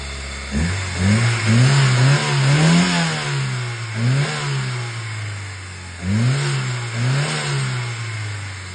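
An Opel Vectra A 1.6 engine running on gas and petrol revs up and down repeatedly, pitch rising and falling in several surges over a steady idle, close and loud.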